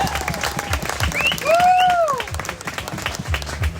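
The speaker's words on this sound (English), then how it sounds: "Yeah, we can clap. We should totally clap." Wedding reception guests clapping in a steady wash of applause, with scattered cheers and voices rising over it.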